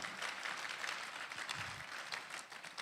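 Steady applause from an audience at a business summit, a dense wash of clapping that holds at an even level throughout, with a faint low murmur underneath.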